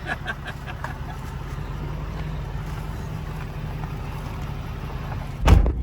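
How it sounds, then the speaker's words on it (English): Truck camper engines revving on a road near Destruction Bay, a steady low motor drone that swells into a louder burst near the end, without talk. "Rev those engines."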